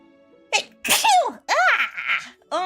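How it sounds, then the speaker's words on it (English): One big, loud human sneeze with a sharp intake and explosive burst, then a few breathy, voiced exclamations right after it. "That was such a big sneeze"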